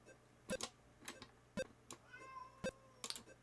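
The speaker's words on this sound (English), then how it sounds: "Can you hear this cat?" A cat meows from an Atari 2600 homebrew game, short synthetic mewing cries repeating about once a second over faint ticking, quiet and alone with no talking.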